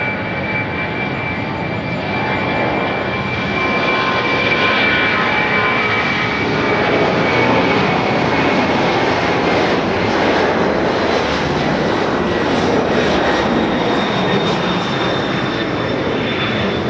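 An airliner in a special livery at Haneda airport roars steadily and loudly as it passes, a broad sustained jet rumble with a faint whine that holds level from start to finish.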